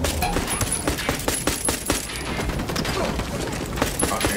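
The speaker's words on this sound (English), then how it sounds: "gunfight with a sniper, with a pistol" Pistol gunfight with a sniper in Ghost Recon Wildlands, a rapid string of close, sharp gunshots and crackling impacts running throughout, loud and dense with little pause.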